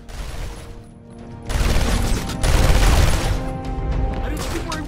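Enemy gunfire rattles in a dense, sustained burst during Batman: Arkham Asylum gameplay, building loud after a quieter opening and mixed with game voices.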